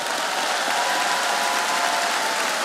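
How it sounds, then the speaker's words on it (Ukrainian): A full audience at a Ukrainian comedy stage show bursts into loud, dense applause that stays steady and even from start to finish, with no one talking over it. "Ваші оплески."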